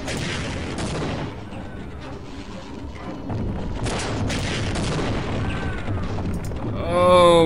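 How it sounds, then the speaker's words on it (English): Rocket launcher blasts and explosions in Half-Life, a sustained wash of booming detonations and rumbling debris with rising whistles and a louder burst at the end. "rocket launch this thing"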